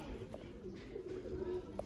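Sialkoti pigeons cooing softly in a loft, low murmuring calls repeating under faint background noise, quiet and close.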